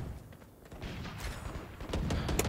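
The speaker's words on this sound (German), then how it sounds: "Wo kommen die Schüsse jetzt?" Gunshots in a video game ring out as a few sharp, separate cracks with short gaps, the loudest bunched toward the end, over a low background rumble.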